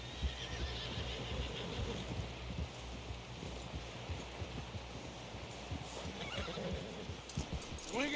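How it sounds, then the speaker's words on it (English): Horse hooves clip-clop steadily with an occasional whinny in the video game Red Dead Redemption 2, set against wind, rustling and continuous background noise for the whole stretch. "Someone help John down off this horse"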